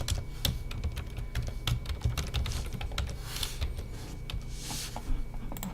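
Rapid, steady keystrokes on a computer keyboard as a SQL select query is entered, close and continuous for several seconds with no talking.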